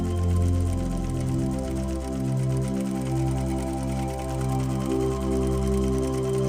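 A sewing machine stitching a seam with a bar tack, a steady fast mechanical chatter with a low rumbling motor hum throughout, close and even with no talking.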